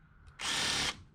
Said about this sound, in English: You're going to drill them out.